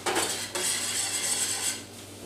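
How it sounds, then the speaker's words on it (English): A spoon scrapes and clinks steadily against a pot while a potato and carrot stew for an Ethiopian meal is stirred, close up and continuous for a couple of seconds with no talking. "And then stir that up."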